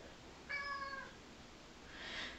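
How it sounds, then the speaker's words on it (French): A pet cat meows several times in quick succession at close range, a short plaintive call indoors, with faint rustling afterward and no talking. "Oh mon chat, qu'est-ce qu'il y a?"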